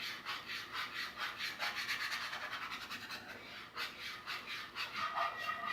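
A utensil stirs a white sauce made with milk in a pan, giving close, quiet, rhythmic scraping strokes that repeat steadily with no pauses.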